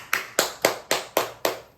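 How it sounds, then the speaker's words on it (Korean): Six sharp, evenly spaced claps ring out alone at a family home worship gathering, welcoming a husband about to preach; a small, close group clapping in rhythm. "오늘 설교하실 우리 남편 큰 박수로 맞이겠습니다."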